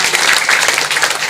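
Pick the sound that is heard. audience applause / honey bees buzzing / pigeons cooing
audience applause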